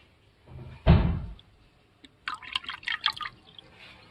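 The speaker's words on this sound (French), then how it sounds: "Je vais verser un peu d'acide." A little acid is poured into hydroponic nutrient water, a brief close splash and trickle followed by a few faint drips.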